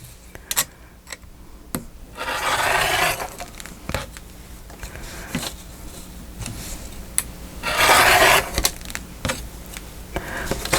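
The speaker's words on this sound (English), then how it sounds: "Got my handy dandy rotary blade here. And I just cut strips." Rotary blade slicing fabric strips along a straight edge, two distinct rasping cuts of a couple of seconds each, close and fairly loud, separated by quieter handling taps and rustling.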